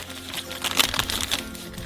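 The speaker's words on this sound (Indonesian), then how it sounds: "Buka kemasan mentega" Close crinkling of butter packaging being opened, brief rustling bursts.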